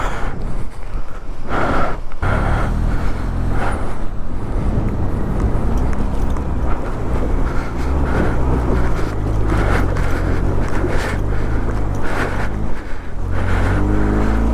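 Vehicle driving through a mountain water stream on the monsoon route from Kaza to the Chandrataal base camp, with continuous loud rushing water and engine rumble close up and wind noise throughout, no talking.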